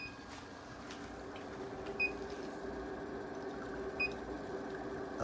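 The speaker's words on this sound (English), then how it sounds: "I hear the inverter making a beep sound" A power inverter under load from a running coffee maker gives two short, faint electronic beeps about two seconds apart over a steady low hum.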